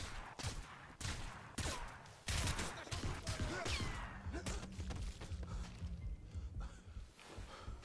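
Gunshots in the shooter Crysis Remastered, a string of sharp, loud bangs in the first few seconds, then thuds, crashes and scattered impacts mixed with game effects, all close and without talk.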